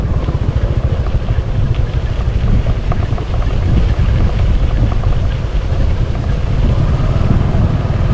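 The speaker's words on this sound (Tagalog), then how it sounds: "Sa sarap ng hampas ng hangin dito." Strong, steady wind buffeting outdoors, a loud continuous roar with low gusty rumble filling the whole stretch, alone with no voices.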